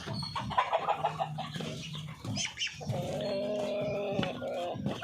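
Chocolate Orpington chickens cluck and call in a farmyard, with short irregular bursts of clucking in the first half and a steadier, louder stretch of calls later, close by and with no talk.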